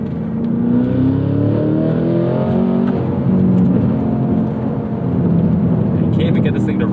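Cadillac CT5-V Blackwing V8 engine pulling hard toward redline on a damp gravel-strewn road, a loud steady roar with rising harmonics held close throughout, wind and road noise underneath.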